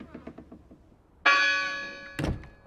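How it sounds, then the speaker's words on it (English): In the video game Draugen, a church bell strikes once with a bright ringing tone that hangs and slowly decays, followed by a dull thunk; earlier, faint soft footsteps are heard. "Certainly someone ringing that bell."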